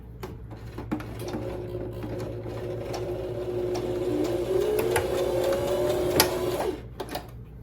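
A sewing machine runs a basting seam on a jumpsuit, a steady close whirring stitch that lasts about five seconds, rises slightly in pitch near the end, and is framed by small clicks and handling noises.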